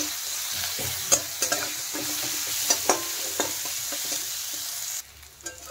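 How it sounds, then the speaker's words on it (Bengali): Crushed garlic and chopped onion frying in oil, giving a loud, steady sizzle broken by a few spatula scrapes as they are stirred. The hiss cuts off abruptly near the end. "দিয়ে দিচ্ছি থেতো করা রসুন, কুচিয়ে রাখা পেঁয়াজ। রসুন আর পেঁয়াজটা একটু ভালো করে ভেজে নেব প্রথমে।"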